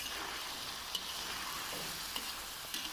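Chopped tomatoes, four cut into large chunks, go into a sizzling Peshawari street-style charsi chicken karahi over high flame, giving a steady broad frying hiss with a few brief soft clinks and stirring bumps.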